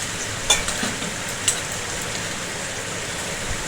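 Okra and eggplant coated in mustard paste are stirred in a pan, making a steady, moderate sizzle with a couple of light utensil taps near the start.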